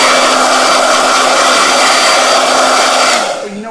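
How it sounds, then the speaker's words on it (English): A handheld blow dryer runs loud and close with a steady, even whir and rushing air, then winds down and cuts off near the end. "All right, blow dryer."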